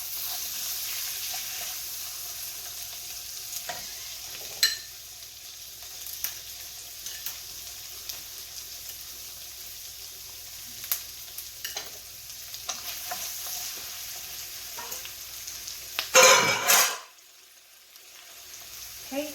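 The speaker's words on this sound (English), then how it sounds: "Let me cook the bok choy a little bit." Bok choy sizzles quietly in a pan while being stirred, with scattered scraping clinks, a soft speaking voice, and a louder burst of sizzling and clatter near the end.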